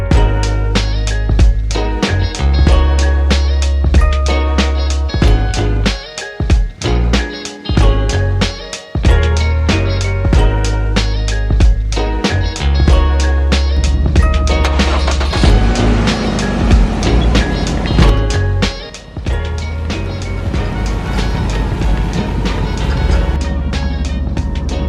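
A 2009 Ford Focus is being washed at a car wash. Loud, dense spraying and rushing water continues for the whole stretch, with a machine-like hum and shifting bursts of spray. No one speaks.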